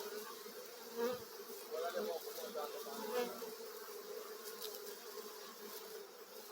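Bees swarm around a small tree hive, making a faint, steady buzzing hum that continues throughout with a few louder passes nearby and soft murmuring voices in the background.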